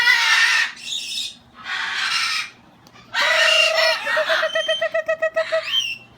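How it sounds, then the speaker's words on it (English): Birds call loudly and close in a Michigan morning, with repeated clucking and squawking bursts that sound like chickens or roosters, ending in a quick chattering series; no talking. "This is what it sounds like in Michigan in the mornings. These are all of our native songbirds."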